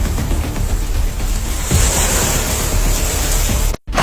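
Sea waves wash steadily onto a beach, a loud, continuous rush of surf with wind buffeting the microphone, cutting off abruptly near the end.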